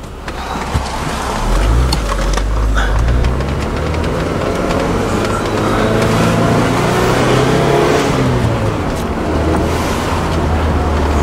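A 1999 Mitsubishi Eclipse GSX on the move gives a loud, steady engine drone with road and wind roar, its revs rising and falling through the run, with no voices.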